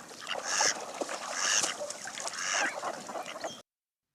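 Mallard ducks give a series of loud, nasal quacks and honking calls in rough repeated bursts, fairly close and clear with no talking over them.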